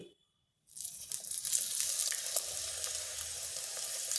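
Paratha frying in oil in a pan, a steady loud crackling sizzle that starts abruptly after a brief silence and continues unbroken, with light stirring or scraping, no voices.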